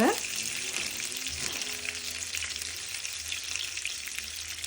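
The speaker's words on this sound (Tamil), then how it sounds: "2 மேசக்கரண்டியோட எண்ணெய் விட்டு ஒரு 2 காஞ்ச மிளகாய், 1/4 தேக்கரண்டி கடுகு, கருவேப்பிலை" Dried red chillies, mustard seeds and curry leaves fry in a little hot oil, giving a steady, close crackling sizzle that holds for the whole stretch, with a brief sharp spit at the start.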